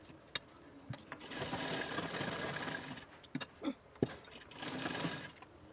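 A sewing machine stitches a blouse in bursts of whirring, running steadily for a couple of seconds, pausing amid small clicks and taps, then running again, close and moderately quiet, with no talking.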